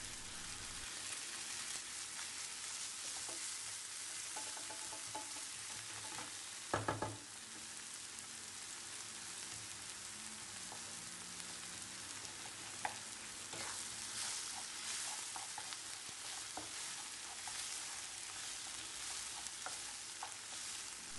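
Onions and tomato paste fry in butter in a pan with a faint, even sizzle, gently stirred, and one brief knock partway through.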